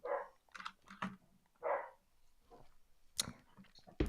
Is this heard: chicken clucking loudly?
no